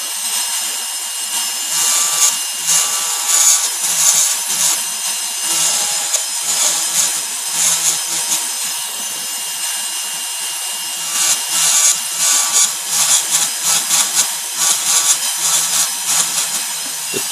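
A jeweler's butt burr grinds a stone seat into a palladium ring for an emerald-cut diamond, giving a loud, close, high-pitched whirring and rasping in bursts, with a quieter stretch midway.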